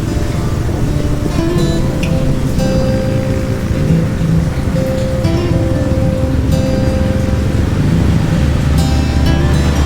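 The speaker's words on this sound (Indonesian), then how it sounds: "ternyata mulai deras lagi teman-teman hujannya" Heavy rain during a motorcycle ride, a steady dense hiss of downpour mixed with road and engine rumble that stays constant and loud throughout, with no voices.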